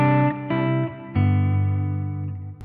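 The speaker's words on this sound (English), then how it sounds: "if I go to the second snapshot, that brings in delay and reverb and adds a little bit of compression" An electric guitar played through an HX Stomp snapshot with delay, reverb and light compression rings out in a few sustained notes and chords, each attack followed by smooth decaying tails.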